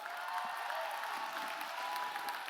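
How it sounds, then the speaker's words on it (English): Audience applause at a business summit, a dense steady round of clapping from a crowd, even and sustained, heard at a distance. "Give her a big round of applause"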